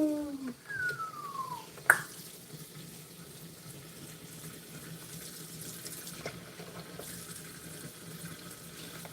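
Water drains from a sink with a steady soft gurgle and trickle, alongside a brief squeak and a sharp knock near the start.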